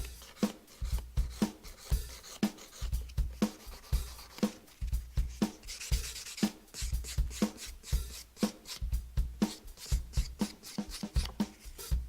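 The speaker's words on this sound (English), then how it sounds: "I'm going to use my hand file to refine into perfection" A hand nail file refining nails in quick, close back-and-forth rasping strokes, soft but crisp, in a steady rhythm with brief pauses and no talk.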